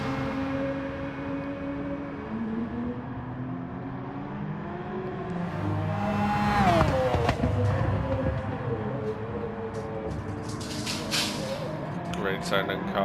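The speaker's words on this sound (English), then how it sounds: "Great sounding car, that F1." An F1 car in a sim racing game, its engine a steady droning whine that climbs and falls through gear changes, with a brief louder swell midway, heard under continuous commentary.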